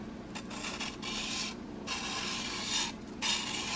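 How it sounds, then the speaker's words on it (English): A blade is drawn in light, steady strokes across a 1200-grit sharpening stone, giving soft, close rubbing rasps with brief pauses between passes and no talk. "Let's give it a couple of light strokes just to make sure we got rid of all the burr at 1200 grit."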